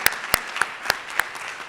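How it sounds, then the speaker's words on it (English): Applause for finalists at the 2022 Heroes at Home military spouse awards in Hampton Roads: a short run of crisp, evenly spaced claps stands out over a softer background of clapping. "Everybody, give them all a round of applause"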